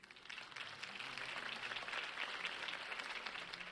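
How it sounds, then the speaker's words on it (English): Crowd applause at a political campaign speech in the Batman Telltale Series video game, a faint, steady wash of clapping lasting a few seconds with no speech over it. "could have heard that applause"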